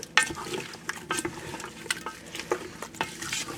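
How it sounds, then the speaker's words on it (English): Vegetables including sweet peppers are tossed in a pressure cooker pot for orange chicken, with quiet scraping stirs, light clinks and a soft sizzle underneath, no talk. "Okay, in with our veggies. Give that a good toss."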